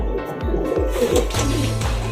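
Pigeons cooing close by, a series of low repeated coos in a steady rhythm, with a female bird circling overhead during a pigeon-flying session.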